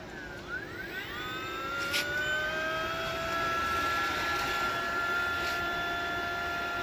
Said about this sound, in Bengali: তো মোটরটা ঘুরছে দেখতেই পাচ্ছেন